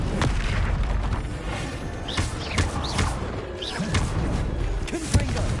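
The Bombarda blasting spell from Hogwarts Legacy goes off in a string of heavy booming blasts with thuds and bright whooshing bursts, loud and dense throughout.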